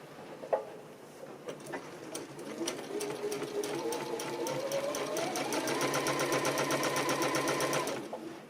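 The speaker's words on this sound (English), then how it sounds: "And now I'm just simply going to sew all of these strips together." A sewing machine stitching quilt binding strips together with a quarter-inch seam, starting with a few clicks, then running steadily with a fast, even mechanical whir and rapid needle ticks before stopping.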